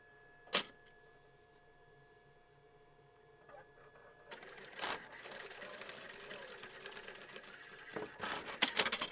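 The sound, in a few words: sewing machine stitching a seam along lace for an apron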